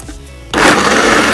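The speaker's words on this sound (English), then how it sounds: "We cover back the blender, and we press on." A blender runs loudly and steadily after a quiet start, whirring through soaked almonds, water and honey to make almond milk.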